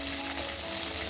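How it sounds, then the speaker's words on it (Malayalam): Two or three green chilies hit hot oil already holding fenugreek, curry leaves and small shallots for a Kerala okra tamarind curry, giving a steady, close sizzle with no pauses. "2-3 പച്ചമുളക് ചേർക്കുന്നുണ്ട്."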